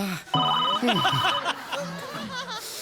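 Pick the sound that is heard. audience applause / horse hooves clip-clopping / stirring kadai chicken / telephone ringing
telephone ringing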